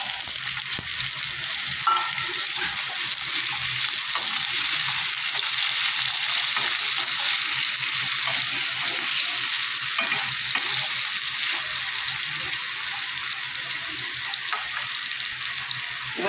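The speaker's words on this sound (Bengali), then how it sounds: "এবার দিয়ে দেবো কেটে রাখা আলু।" Cut potatoes sizzle and crackle loudly in hot oil seasoned with asafoetida, a steady close frying hiss with occasional stirring clatter throughout.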